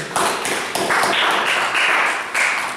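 French-speaking church congregation breaking into cheering and clapping during a sermon, a dense, bright wash of hands and voices that swells in waves across a few seconds.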